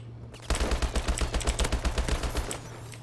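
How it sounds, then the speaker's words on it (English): Rapid automatic fire from the HBR rifle in Advanced Warfare, a loud, punchy burst of evenly spaced shots lasting about two and a half seconds, heard alone. "this HBR fires a freaking cannon"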